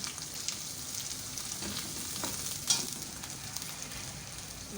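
Spices frying briefly in hot oil for beef achaar gosht, giving a steady soft sizzle with a few faint clicks from the pan, quiet and close, with no voices.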